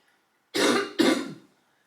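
A single person gives a harsh, close cough followed at once by a rough throat clear, two loud bursts in about a second, with silence before and after.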